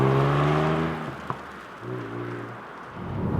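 A Ford Puma ST hot crossover hatch speeds up from around 100 km/h, its engine note droning and rising steadily with low tonal harmonics, fading briefly before building again amid constant road and wind roar.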